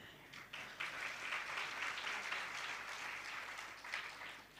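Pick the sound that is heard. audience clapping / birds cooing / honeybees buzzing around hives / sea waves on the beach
audience clapping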